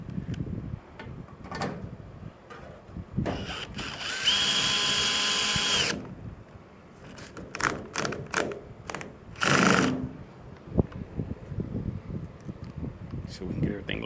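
A cordless power drill backing screws out of a Maytag dryer in a garage, short whirring bursts with one longer high-pitched run, mixed with clinks of metal parts and quiet talk.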